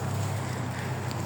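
A tractor engine passes nearby as a steady, low droning rumble with a continuous hum that holds throughout, fairly loud with no voices.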